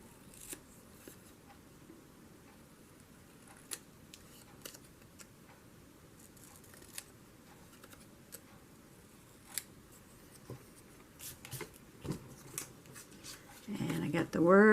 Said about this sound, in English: Cut off this little picture of the grapes.